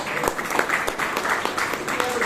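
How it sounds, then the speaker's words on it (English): Round of applause at a Toastmasters club meeting in Bangalore, a modest group clapping steadily with a few sharp individual claps standing out. "Good round of applause"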